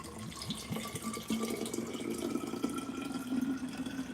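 Water runs steadily from a tap into a reusable water bottle, a continuous hiss and splash with a faint rising pitch as the bottle fills, close by and alone for about four seconds.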